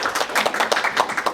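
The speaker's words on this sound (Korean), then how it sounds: "큰 박수로 맞아주시면 감사하겠습니다." An audience claps steadily to welcome a logistics professor before his talk at a real estate seminar, a close, fairly loud patter of hands with no talk over it.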